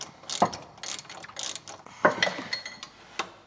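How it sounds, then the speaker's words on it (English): A hand ratchet tightens the bolts on an exhaust downpipe flange on a Land Rover Defender, giving quick bursts of close, crisp clicking with short pauses between strokes and some metallic taps. "We've got a flange. I'm gonna bolt it on"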